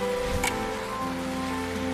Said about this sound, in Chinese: 大雨真的是， 这个雨有点突然啊